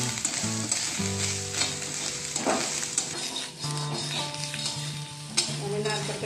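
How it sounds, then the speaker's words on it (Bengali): Grated coconut fries in ghee in a hot wok, producing a continuous close sizzle with stirring, heard under steady background music. "আমি নারকেলটা একটু কড়াইতে ভাজতে নেবো, ঘিয়ের মধ্যে নারকেলটা ভাজা হয়েছে"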